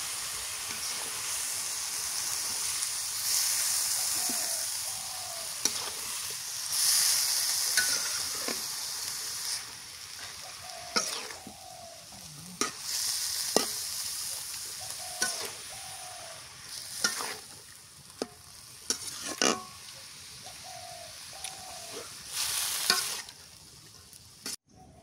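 Pumpkin curry with small river shrimp stirred in a frying pan, a steady sizzle under repeated scraping and clanking strokes of a spatula spread over a long stretch, with no one speaking.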